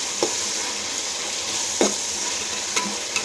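Ginger garlic paste fries in a pan for fried rice, giving a steady close sizzle broken by a few soft scraping stirs of a spoon, with no voices.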